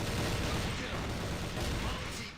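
A Counter-Strike gunshot fires through a wall: a loud, dense burst of gunfire with heavy low rumble, continuous across a short stretch of game noise with faint voices.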